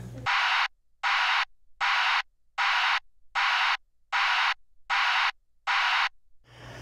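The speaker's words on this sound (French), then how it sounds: "Et l'alarme large bande." A loud broadband vehicle backup alarm sounds in eight evenly spaced bursts, each a rough hiss-like pulse rather than a tone, separated by short silences.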